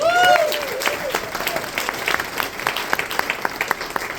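Applause from a live storytelling audience, a steady wash of many clapping hands with brief cheers at the start, continuing evenly throughout.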